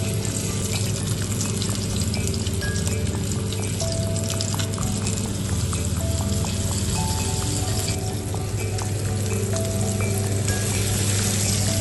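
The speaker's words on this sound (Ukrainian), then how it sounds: "беремо нашу рибку з цибулькою і викладаємо на прогріту пекельну" River fish pieces with onion sizzle and fry steadily in a hot pan, a loud continuous crackle close up, with no talking.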